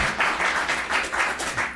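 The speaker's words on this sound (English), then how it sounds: "maybe we could give Ray a round of applause" A short burst of applause from a group, steady clapping that rises and falls slightly before tapering off at the end.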